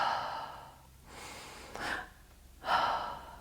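A man imitates a breath catch: two quick, audible in-breaths, each ending in a short gasping hitch, close to the microphone with brief quiet gaps between.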